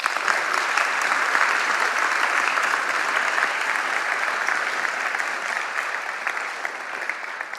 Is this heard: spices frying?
no